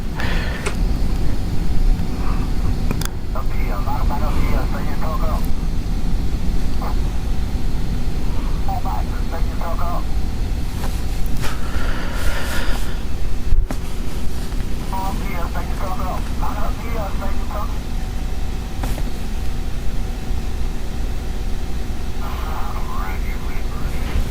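D11 bulldozer working at a surface gold mine in Ridgeway, South Carolina, its steady loud engine roar continuous throughout with occasional clanks, under someone talking.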